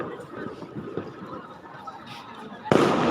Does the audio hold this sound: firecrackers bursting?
yes